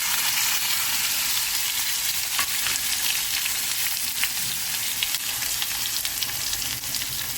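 Green chillies, tomatoes and curry leaves frying in a hot pan for a quick cabbage curry give a loud, steady, continuous sizzle that holds for the whole stretch, with no talking.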